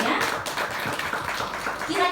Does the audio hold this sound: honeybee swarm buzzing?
no